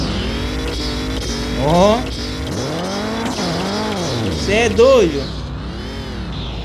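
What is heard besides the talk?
turbocharged lowered car revving against the rev limiter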